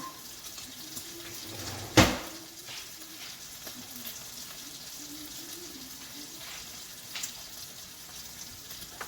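Bacon sizzling in a pan at home during brunch, a steady soft frying hiss with a sharp clatter early on and occasional faint clinks, and a voice murmuring quietly in the background.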